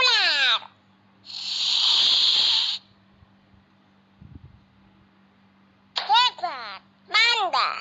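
A snake hisses in a children's educational animal game, one long, loud, airy hiss early on. Short child-like voices come before it and near the end.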